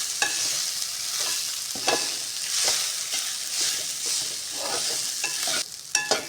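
Spoon stirring and scraping through ellu podi sadam, sesame powder rice, in a pan, soft repeated scrapes and faint sizzling close by, with no talking.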